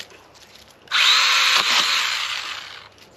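A battery-powered STIHL garden pruner, a small chainsaw-style tool, cuts through wood with a loud, close, high-pitched motor whine that starts abruptly and runs for about two seconds before cutting off, with no talking.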